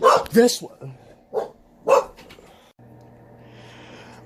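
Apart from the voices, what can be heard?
dog barking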